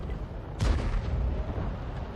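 An M44 self-propelled artillery gun fires once in a World War II tank video game, giving a single loud booming blast that rolls off into a sustained rumble.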